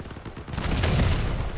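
Heavy cannon fire from a combat vehicle in the Crossout game, a dense booming burst of blasts that swells and rumbles loudly for over a second after a lighter opening rattle.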